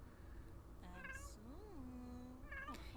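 A pet cat in The Sims 4 gives several clear meows, some short and one long and rising then falling, close and fairly loud over a soft steady background.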